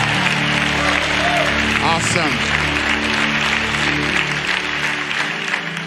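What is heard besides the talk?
congregation clapping hands in praise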